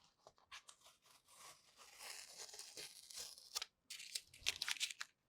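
Painter's tape peeled off a laser-engraved surface, a close ripping and crinkling tear that runs for several seconds in uneven pulls, with a short pause before a final louder strip comes away.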